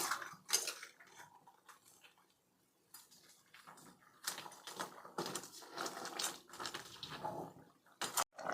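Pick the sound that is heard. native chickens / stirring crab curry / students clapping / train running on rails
stirring crab curry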